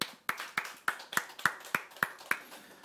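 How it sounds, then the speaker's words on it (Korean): Clapping during a church sermon: about eight sharp, evenly spaced claps in a steady rhythm, close and distinct with quiet gaps between them. "우리 주님께 박수 한번 하십시다."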